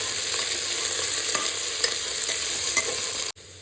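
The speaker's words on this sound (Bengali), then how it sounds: "পেঁয়াজটা হালকা একটু লালচে লালচে করে ভেজে নেবো" Sliced onions frying in a pan with mutton on the way, a steady close sizzle with a few scraping stirs, cutting off abruptly near the end.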